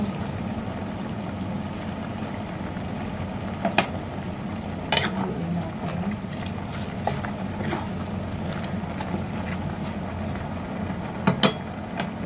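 Okra, eggplant and cabbage stir-fried in a pan for a mixed vegetable dish with fish bagoong give a steady close-up sizzle and crackle throughout, with a few sharp clinks of a spatula against the pan.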